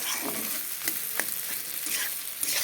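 Potato pieces fry in oil with dried red chillies, giving a strong close sizzle with scraping clicks from a spatula as they are tossed and stirred.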